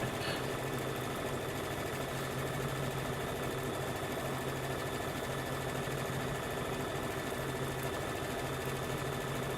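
Embroidery machine stitching a bunny trivet design, a steady close mechanical whir with rapid needle chatter and a pulsing low hum running continuously without talk.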